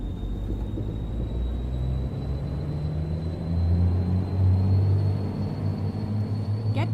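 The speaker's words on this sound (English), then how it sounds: "If you're wondering about the truck sound, Robbie Nicholas's pack for all the trucks." Modded truck engine sound in American Truck Simulator, a low steady diesel rumble with a droning hum that swells slightly partway through, loud and continuous with no talk.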